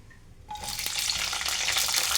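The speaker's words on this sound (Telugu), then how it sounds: "ఫస్ట్ అయితే పచ్చిమిర్చి అనేది వేపేసుకోవాలి" Chillies hit hot oil in a kadai while ridge gourd chutney is being made, starting with a sudden sizzle that swells into a steady, loud frying hiss for about two seconds, with no talking.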